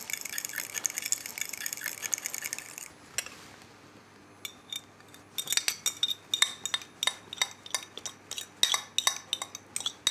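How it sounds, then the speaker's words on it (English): Egg yolks are beaten gently in a bowl with a utensil, giving rapid, light, rhythmic clinking taps. These follow a quieter stretch of softer clatter, all close and fairly faint. "We've got egg yolks. We're just going to beat that just gently."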